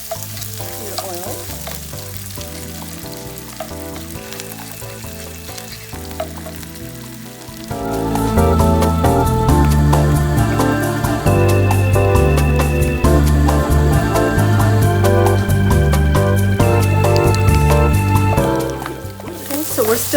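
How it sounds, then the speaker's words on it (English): Onions sizzle and fry in oil in a pan while being stirred, a crackling hiss that swells louder partway through and continues steadily, with background music playing throughout. "we're still stirring our onions"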